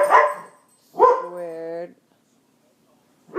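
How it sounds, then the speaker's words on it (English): A pet dog lets out one bark that trails into a whiny yelp, close to the microphone, between bits of a person talking. "Sorry, that's my dog."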